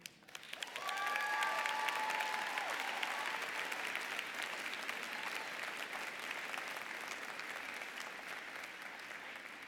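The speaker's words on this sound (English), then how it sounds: "Please give a round of applause for our most prestigious commencement speaker." A large crowd applauds a speaker at a university college of education commencement ceremony, clapping rising quickly to a full, sustained roar of hands that slowly eases, with a brief whoop early on.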